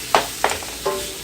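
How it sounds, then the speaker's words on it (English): Creamy mushroom and pepper pasta sizzling in a hot cast iron pan with the heat turned off, three short crackling bursts in quick succession, close and alone. "this keeps it nice and hot because it's still sizzling and it's been turned off for a while"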